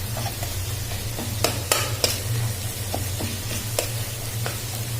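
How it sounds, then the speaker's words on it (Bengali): Egg being stirred together with vegetables in a frying pan, a steady low sizzle running throughout with scattered scraping clicks and taps of the utensil against the pan, close and fairly loud, with no talking. "ডিমটা ভালোভাবে এগুলোর সাথে মিক্স করে নেব। সবজিগুলোর সাথে ভালো করে মিক্স করে নিতে হবে"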